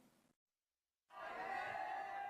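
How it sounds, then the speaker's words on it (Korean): Loud cheering and shouting from a crowd of students outside a college entrance exam hall on a freezing early morning, bursting in after a brief silence and holding steady and dense, with a short murmur of voices at the start. "이른 아침을 깨우는 우렁찬 함성"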